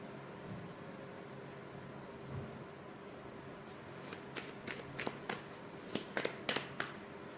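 Oracle cards being shuffled and drawn at close range: soft riffling at first, then a run of sharp, crisp card snaps and flicks that grow louder toward the end, with no talking.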